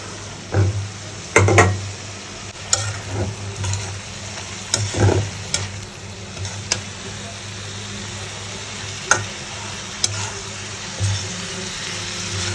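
Meat frying in a pan with chopped carrots and green chilies, a continuous close sizzle punctuated by sharp scraping stirs and spoon knocks every second or two, with no speech.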